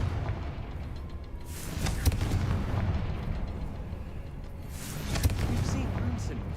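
Confringo fire spell blasts in the video game Hogwarts Legacy: two booming bursts, about three seconds apart, rise over a constant rumbling background.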